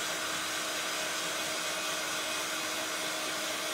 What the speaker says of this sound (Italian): Cerchiamo di asciugare velocemente. Per queste cose va bene anche il phon.